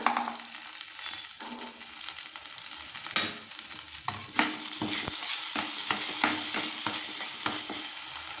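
Steady hot-oil sizzling as a ground yogurt-based paste is added to a tempering pan, with repeated scraping and stirring strokes of a spoon, close by and fairly loud throughout, with no voices.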